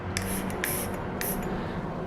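Three quick hissing spritzes from a cologne atomizer dispensing Mugler Alien Man, each short burst clear and close over a low room hum, no talking.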